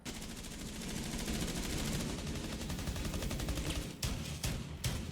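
Rapid automatic gunfire in the PC video game Rainbow Six Siege rattles continuously in dense bursts, loud and close, ending with a few separate sharp shots and no speech.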